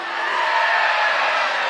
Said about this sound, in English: Raise your hand and scream.